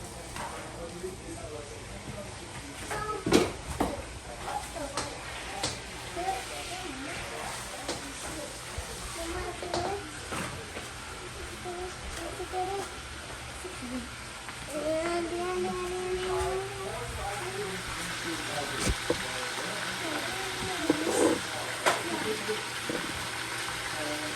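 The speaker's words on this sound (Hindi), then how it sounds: "सर अभी देखिए ना, अभी इसको चिकन को फ्राई करना है" Chicken in a tomato chicken curry frying in a pan, with a steady soft sizzle and bubbling and occasional clinks under ongoing conversation.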